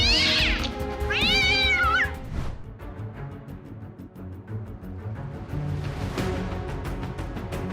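A cat lets out two clear, drawn-out meows close by, followed by quieter rustling and background noise.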